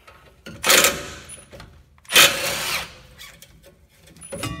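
Power tool spinning out two 10 mm caliper bolts on the rear brakes of a 1997-2010 Ford F-150, heard as two loud, close whirring bursts about a second each, then a softer third run starting at the end.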